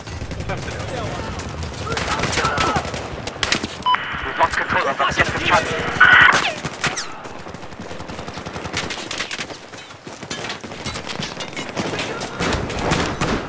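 Suppressed rifle fire in Battlefield 4 comes in repeated short bursts of muted shots, mixed with other game sounds and radio-like chatter, while a player talks over the action.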